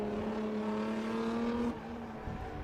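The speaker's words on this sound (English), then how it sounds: "That's the last car." Rallycross race car at a folk race final in Tierp, its engine droning loud and steady with a sustained tone that drops as it passes, then fades slightly.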